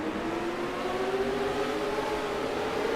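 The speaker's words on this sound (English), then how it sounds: "Now, these trucks run 4-cylinder engines, but they sound especially throaty tonight." Four-cylinder race truck engines in the NR2003 racing video game hum steadily at a fairly quiet level, several tones blending into a sustained whine, with no talk over them.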